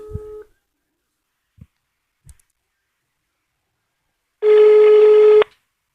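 A steady telephone ringing tone on a call to a Catholic helpline: a long, clear electronic burst after a few faint clicks and a brief earlier tone.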